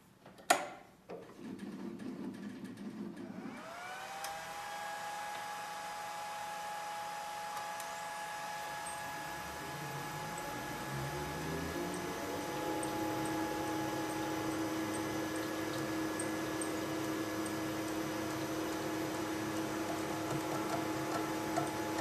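A Sheldon Vernon horizontal mill cutting T-nuts by conventional milling on power feed: a clunk, then the motor spins up into a steady whining hum with faint rhythmic ticking as the cut proceeds.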